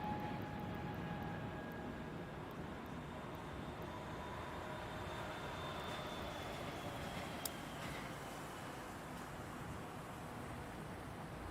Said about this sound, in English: the A300 is up next for takeoff